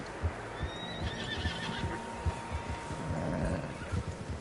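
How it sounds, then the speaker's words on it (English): Several horses neigh and whinny in the Red Dead Redemption 2 video game, with hooves clip-clopping underneath, repeated calls rising over a steady low outdoor rumble. "Horses, quite a few of them."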